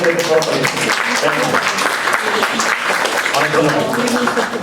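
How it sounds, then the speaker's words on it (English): Applause from a theatre festival audience in New York, sustained clapping mixed with chatter and vocal noise from the crowd, fairly loud and steady. "Have one more round of applause for NATOKER GAAN."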